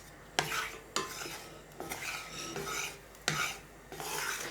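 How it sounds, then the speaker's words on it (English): Beef mince is stirred and scraped in a pan with cold-pressed macadamia oil, heard as several loud rasping scrapes at irregular intervals over a soft background sizzle. Nobody speaks. "Put that in the pan. Throw in the mince."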